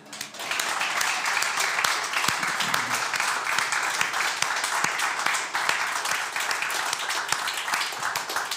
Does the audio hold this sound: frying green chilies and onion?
no